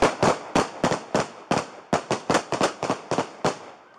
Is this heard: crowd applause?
no